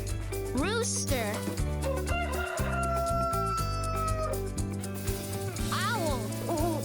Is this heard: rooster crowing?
yes